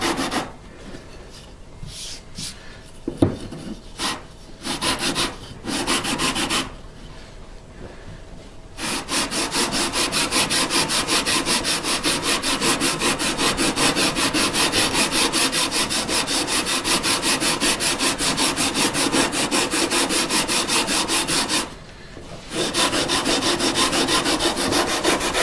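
Wood sanding on a custom electric guitar neck, with steady rapid back-and-forth strokes that run nearly continuously and close up, broken by a few brief pauses early on and one near the end.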